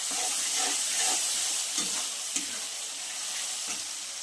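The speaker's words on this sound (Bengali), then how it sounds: "আমি চিকেনগুলো সুন্দর করে কষাতে লাগছি। এই মশলার সাথেই আমি কষাতে লাগবো" Chicken pieces fry in masala, a steady hissing sizzle with soft periodic stirring strokes and a couple of sharp scrapes, fairly close and with no talking.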